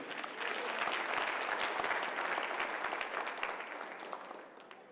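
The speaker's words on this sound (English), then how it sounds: "give me a round of applause" Sustained applause from a large convention audience fills the hall with dense, even clapping that holds steady before slowly tapering off toward the end.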